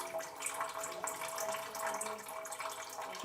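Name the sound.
brown water being pumped out into buckets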